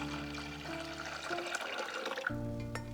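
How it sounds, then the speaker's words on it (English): Cold water runs from a tap into a pot while Afghan chai is being made. The splashing and pouring is steady and close, and its pitch shifts as the flow changes, with no talking over it. "we're just going to add a bit of cold water and we're going to repeat the same steps"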